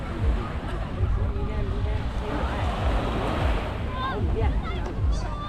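Gentle evening ocean waves wash onto Dadonghai Beach in Sanya, a soft continuous surf with swells rising and falling, some wind buffeting, and faint distant voices of people nearby.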